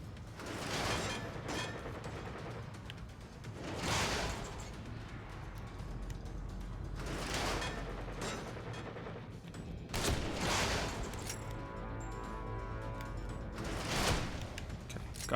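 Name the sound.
zombie firing a machine gun in video game The Evil Within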